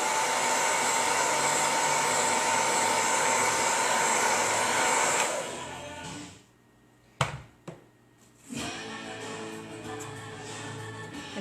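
A hair dryer blows steadily on a sign transfer, a loud continuous whoosh for about five seconds that cuts off into near silence, followed by a couple of sharp clicks and a quieter return of the airflow.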